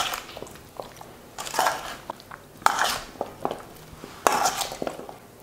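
A utensil scrapes and clinks against a pot while stirring potatoes with sour cream, several uneven strokes, close by, with no voices.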